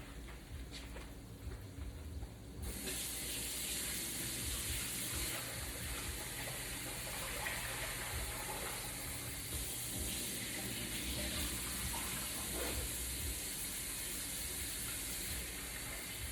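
Rice rinsing under a running kitchen tap, a steady close hiss of flowing water that swells loudly after a quieter start and continues unbroken throughout, with faint splashing and no talk.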